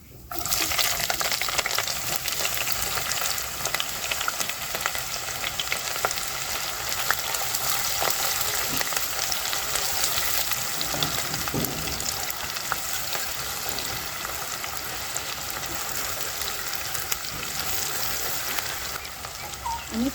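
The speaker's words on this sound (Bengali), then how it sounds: "দারচিনি মশলাগুলো সামান্য একটু ভেজে নেবেন তারপর পেঁয়াজ কুচি দিয়ে দিবেন" Cinnamon, cloves and chopped onion fry in a pan for a beef curry, giving a continuous, even sizzle that stays loud and close for the full stretch with no talking.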